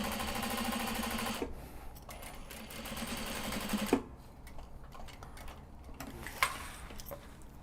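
A sewing machine backstitches, its rapid rhythmic needle chatter running for about four seconds with a brief pause, then fading into quieter handling noises and small clicks.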